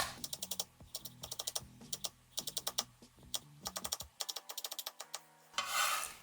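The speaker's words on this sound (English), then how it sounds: "Turn the strips and cut crosswise into fine mince." Knife chopping crosswise on a cutting board to mince capers for a walnut-caper salsa, a run of quick, evenly spaced close taps in short bursts, ending in a brief rustle.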